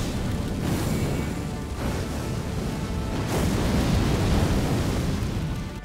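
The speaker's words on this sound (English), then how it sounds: "Burn, O Flame. You'll get this from the Remembrance of the Fire Giant, and you're just creating giant pillars of fire" Giant pillars of fire from the Burn, O Flame incantation in Elden Ring roar as a continuous loud, dense rumbling wash with surging bursts, steady throughout without pauses.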